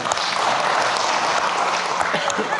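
A crowd claps steadily at a civic event in Samarinda, a dense wash of applause that stays even and fairly loud throughout, with a murmur of voices mixed in.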